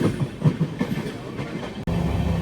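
The Pinakini Superfast Express rolls along the rails between Chennai Central and Vijayawada, a steady close rumble with faint rhythmic clicks from the wheels and a brief dropout near the end.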